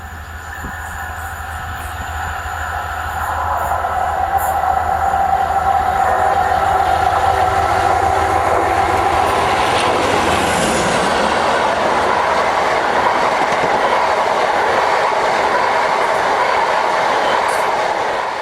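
A class 90 electric locomotive hauling a passenger train rumbles past steadily, growing louder as it nears, with a continuous roar of wheels on rails and a faint whistle-like tone high above.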